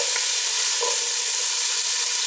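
Diced onion and celery sizzle loudly and steadily in a pot, a constant close hiss with faint stirring clicks.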